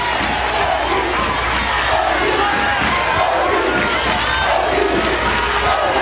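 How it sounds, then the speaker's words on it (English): A roaring stadium crowd cheers and shouts continuously at a Women's College World Series softball game between Oklahoma and UCLA. The loud, sustained roar has rising swells throughout. "Listen to the crowd. Listen to this crowd."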